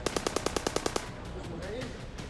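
Automatic gunfire from Hamas fighters in Israel shooting from house windows, a rapid burst of about ten evenly spaced shots at moderate distance, followed by a noisy lull with faint background sounds.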